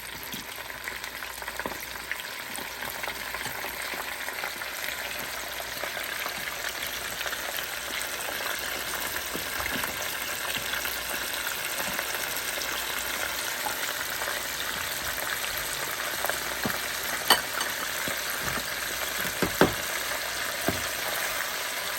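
Shrimp fry in hot oil in a light, continuous crackling sizzle at close range, steady and fairly soft, with occasional sharper pops rising above the bubbling.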